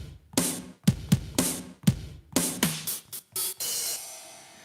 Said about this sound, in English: There's a kit in here called Smash It